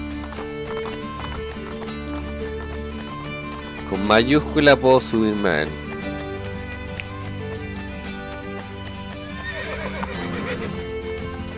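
A horse in the video game Assassin's Creed Brotherhood gives a loud, close neigh amid clip-clopping hooves, with game music throughout and someone speaking Spanish over it.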